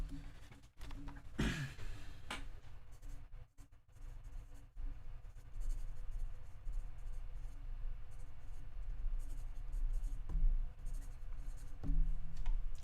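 Pen or pencil writing on paper in a lecture setting, a steady scratchy scribbling that runs throughout over a low room hum, with a few faint clicks and no speech.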